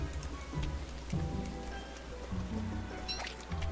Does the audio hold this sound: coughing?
no